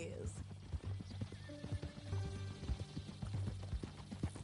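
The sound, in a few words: horse hooves, from Red Dead Redemption 2 video game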